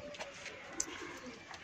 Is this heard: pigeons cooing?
yes